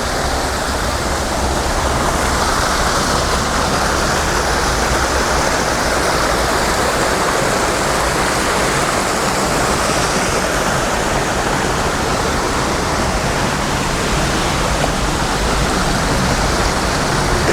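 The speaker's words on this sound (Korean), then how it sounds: "계곡 물소리가 정말 시원합니다." Valley stream water rushing steadily beside a walking path near Namsangol Hanok Village in Seoul, a loud, even, continuous flow with no voices.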